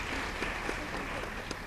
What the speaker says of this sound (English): Can we give her a much bigger round of applause?